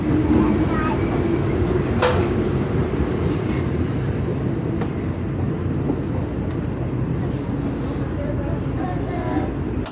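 A KRL commuter train pulls out of Lenteng Agung station, a loud, steady rumble and roar running unbroken from start to finish, with faint clicks on top.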